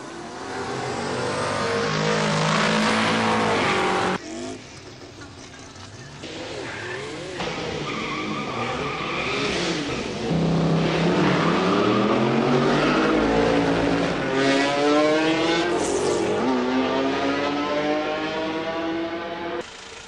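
A Chevrolet V8 race car with rigid-axle rear suspension at a drag-style shakedown run, engine revving hard and loud with rising and falling pitch, a brief drop at the shift, then screaming acceleration up close.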